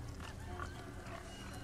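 A pig in Resident Evil 4 gives low grunting, snuffling noises, faint and continuous under a murky game ambience.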